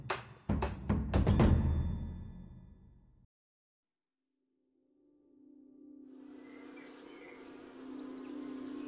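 Honeybees in flight give a steady insect buzz that starts faint and grows, following a burst of louder sounds and a silent gap.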